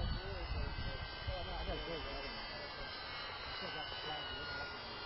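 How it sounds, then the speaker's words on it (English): A model airplane flies inverted overhead on a windy, bumpy day, its engine a steady, moderately distant buzzing drone under breezy outdoor air. "Will it fly inverted, John?"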